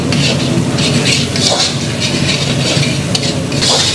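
Garlic, capsicum and onion frying in a pan for mushroom manchurian, a loud, steady hissing sizzle with faint stirring scrapes throughout.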